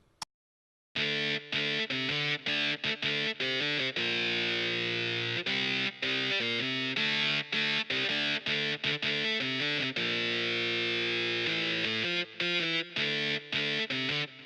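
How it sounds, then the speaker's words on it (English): A MIDI guitar line from a Eurobeat arrangement, a synthetic distorted lead playing fast staccato chords and riffs, loud and continuous after a brief silent start. "What you're gonna hear now is the MIDI guitar, which you don't hear in the final song later."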